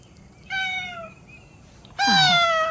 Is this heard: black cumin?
no